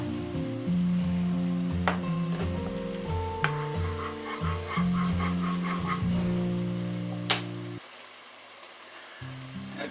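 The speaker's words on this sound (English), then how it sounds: "Got a pan on to sort out our onions and garlic." Onions and garlic frying in olive oil in a pan: a steady close sizzle runs throughout, with a few sharp clinks of a utensil against the pan, before the sizzle drops away near the end.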